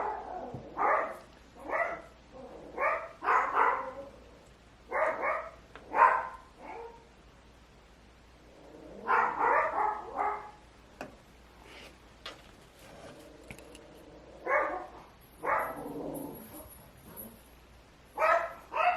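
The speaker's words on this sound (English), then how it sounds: "Sorry about my dogs barking." Small indoor dogs bark in rapid clustered bursts with gaps between, close and prominent, some yips mixed in, with no speech over the barking.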